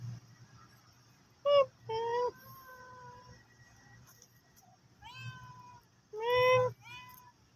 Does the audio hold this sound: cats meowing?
yes